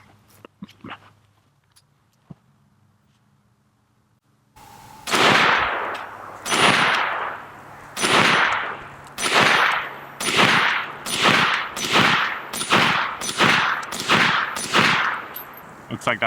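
A CMMG MK47 Mutant rifle in 7.62x39 fires at steel targets, about a dozen loud, sharp shots in a steady, evenly spaced string after a few seconds of quiet with faint handling clicks.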